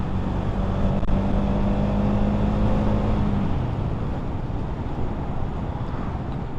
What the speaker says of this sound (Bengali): বাইকের টর্ক ভালো, তো সেই কারণেই রেডি পিক আপটা অনেক ভালো, স্মুথলি বাইকটার স্পিড উঠে যায়